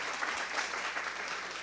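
Audience applause in a crowd at a Santa Barbara Zoo improv show about snails, sea otters and parrots, a brief steady burst of clapping with no talk over it.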